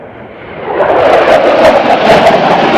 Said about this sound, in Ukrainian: Летить літак.